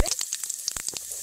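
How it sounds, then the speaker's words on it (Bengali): Whole garam masala, dry chillies, bay leaves and cumin seeds crackle and sizzle in hot oil, a brief close spitting and popping with no voices. "একই তেলে গোটা গরম মশলা, শুকনো লঙ্কা, তেজপাতা এবং গোটা জিরে দিয়ে দেব"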